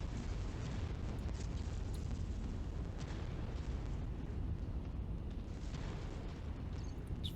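Weapons fire strikes at a player's mech in MechWarrior 5: Mercenaries, a dense, continuous rumble of booming impacts and bursts rolling steadily for several seconds with no voices over it.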